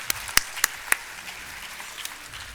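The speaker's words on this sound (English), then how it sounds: "could we please welcome them with a huge round of applause, please?" An audience claps at an inauguration ceremony, a scattered round of applause with a few loud individual claps standing out early on before it thins into a faint, patchy patter.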